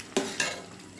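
Chola pulao is stirred in a cooking pot with two short scraping strokes against the metal, the second fainter, over a light background hiss and no talk.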